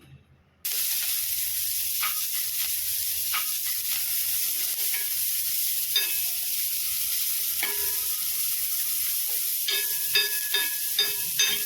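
Chopped onions drop into hot oil for a kantola (spiny gourd) tempering and sizzle steadily and loudly after a short quiet start, with occasional clinks of a spoon stirring through the crackle.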